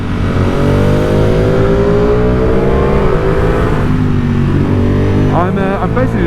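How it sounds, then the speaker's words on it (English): A Ducati Panigale motorcycle held in first gear revs hard and high, its engine note rising and falling in loud continuous sweeps, with a person talking over it near the end. "I'm basically just keeping this in first because it revs so high"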